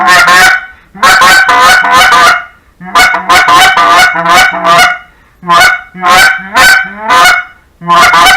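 Zink Money Maker acrylic goose call blown in loud, deep honking bursts, several rapid clucks and honks per burst in a steady rhythm with short pauses, close and alone.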